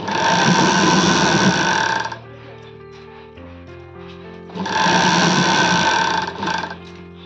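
A domestic sewing machine stitches a folded hem on a sleeveless readymade kurti, running in two loud, steady bursts separated by a quiet pause while the fabric is turned.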